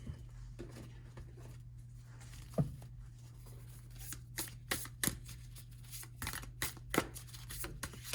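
Soft, close card handling from a tarot deck, with scattered light shuffles and flicks as a single card is drawn, quiet and intermittent over a low steady hum, with no talk.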